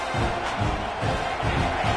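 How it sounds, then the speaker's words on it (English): A football stadium crowd roars with steady, dense cheering that stays loud and unbroken throughout, a broad wash of massed voices with no single caller standing out. "This crowd bringing the energy and noise early."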